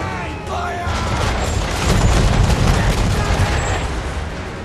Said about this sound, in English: Man of war's broadside! Fire!